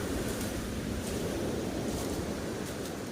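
Strong sea waves at Dingalan beach, a loud continuous roar of surf with rolling swells, mixed with gusty wind noise on the microphone.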